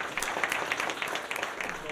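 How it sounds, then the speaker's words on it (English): Audience applauding at the opening of a medical simulation center, a steady patter of many hands clapping throughout a short stretch, moderately loud and continuous. "Does that deserve a big round of applause?"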